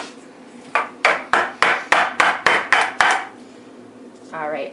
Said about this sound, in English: I'm going to give them just a little bit of a tap like that